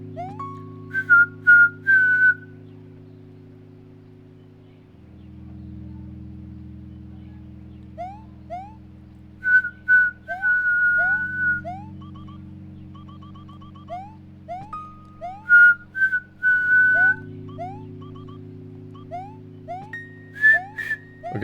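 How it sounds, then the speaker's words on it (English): A person whistling short musical notes and little rising phrases over a steady low droning tone, the clear pitched whistles coming in brief groups with pauses between them. "Whistling was actually really good advice."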